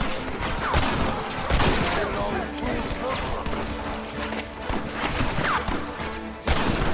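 Rapid gunfire in the video game Red Dead Redemption 2 crackles and bangs in repeated volleys under a loud, chaotic battle scene, with one heavy shot near the end; voices shout over the shooting.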